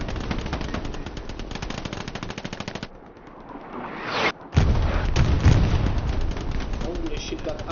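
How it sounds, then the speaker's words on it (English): Gunfire in the World War II shooter Hell Let Loose: rapid, loud machine-gun bursts, a rising whoosh, then heavy continuous firing and booming artillery, with a voice talking over it. "That artillery is actually killing that"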